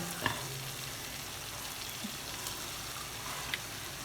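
Kolakkudi-style chicken fry gravy bubbles and reduces in a pan, giving a soft, continuous sizzle with a few faint clicks and pops, quiet and close with no talk.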